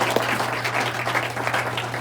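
A room full of people applauds steadily, a dense even wash of clapping throughout.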